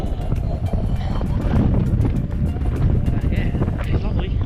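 Strong coastal wind at Hervey Bay, Australia, buffets a GoPro microphone in a steady low roar, with muffled voices faintly underneath.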